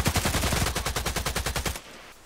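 Rapid automatic gunfire in the video game Contract Wars, a loud burst of many evenly spaced shots that cuts off sharply, leaving a brief quiet tail.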